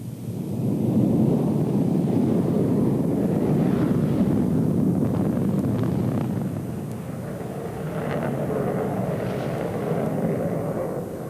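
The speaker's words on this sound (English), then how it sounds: "this visitor from Sweden, the Saab JA37 Viggen" A Saab JA37 Viggen jet taking off at an air show rolls out as a broad, heavy roar with deep rumble and wind buffeting, loud and sustained throughout, easing slightly before swelling again.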